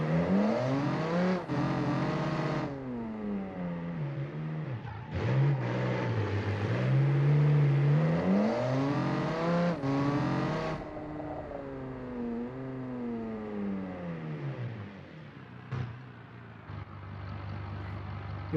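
Car engine in a video game revving and accelerating hard, its loud synthetic whine sweeping up and down in pitch through repeated surges, then dropping to a lower idle-like hum near the end.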